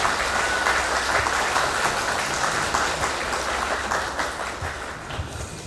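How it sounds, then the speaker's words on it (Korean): Steady applause from a forum audience at a Guro district social welfare event, dense and sustained for several seconds, gradually thinning toward the end. "가장 큰 박수 부탁드립니다."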